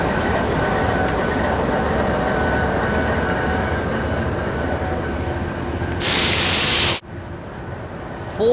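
A rail car running on a train line near Lahore, Pakistan, gives a steady loud rumble of wheels and carriage throughout, with a brief burst of bright hiss near the end before a sudden drop.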